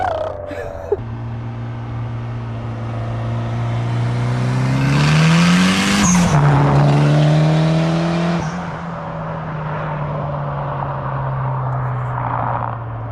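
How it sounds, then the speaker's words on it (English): A turbocharged Mustang engine idles with a deep drone, revs up and climbs in pitch, then settles back down; a hissing turbo whoosh accompanies the rev. "That sounds so good. That turbo."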